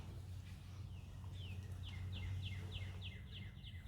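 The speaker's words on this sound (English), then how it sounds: "I hear the birds" Birds chirp in a quick repeated series of high, descending notes over a steady low hum, moderately distant.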